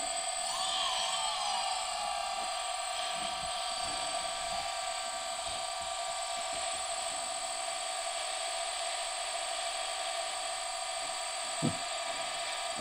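The motors of a DJI Phantom drone spin with no propellers fitted, making a steady high-pitched electric whine with a brief rising warble near the start. The sound is close and continuous, and a small knock comes near the end.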